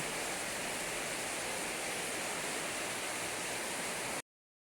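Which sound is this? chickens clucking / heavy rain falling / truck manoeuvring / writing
heavy rain falling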